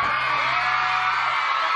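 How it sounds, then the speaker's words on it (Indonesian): Talk show studio audience shouting and whooping together in one loud, sustained roar that fills the room without a break. "Silakan teriak lagi."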